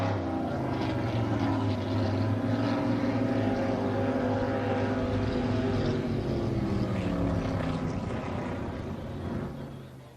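Loud, steady roar of Pro Stock racing boat engines during a heat race at Syracuse, with layered droning tones, sustained throughout and fading slightly at the end.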